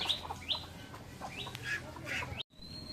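Chickens, newly hatched chicks and ducks in a rural Bangladeshi home yard make scattered calls and chirps, several short bright cries over a low background, ending with a brief cutoff and one more call.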